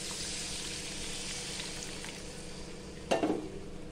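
Tamarind extract is added to a sizzling pan for garlic tamarind kuzhambu, a steady frying sizzle with a sudden louder hiss and splatter as the liquid hits the hot oil near the end.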